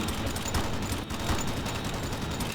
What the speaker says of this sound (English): just firing in the air now and hoping to hit them